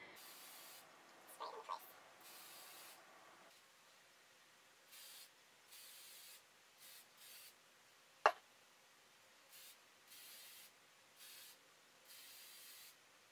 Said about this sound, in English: bathe myself in chemicals,